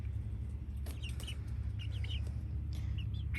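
Leghorn or Rhode Island Red hens clucking in a backyard garden, with several short, scattered calls close by over a steady low outdoor rumble.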